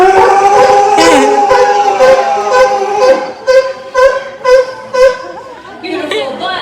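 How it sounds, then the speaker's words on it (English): Sea lions at an aquarium give loud, harmonic barks and drawn-out roars, layered and overlapping, with a run of punchy rhythmic barks near the end. "Sea lions are a very vocal species, so you will oftentimes hear their barks and roars way before you can see them"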